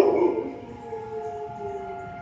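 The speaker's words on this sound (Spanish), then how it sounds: "Cuando la sirena suena, toda la gente se queda quieta" A distant civil defense siren in Barcelona wailing in long sustained tones, faint and steady, with no voices present.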